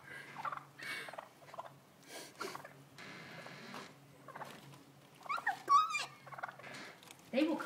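Wild turkeys drawn to a doorway by Lucky Charms cereal, with faint scattered gobbles and clucks at close range, mixed with soft rustling and brief background voices.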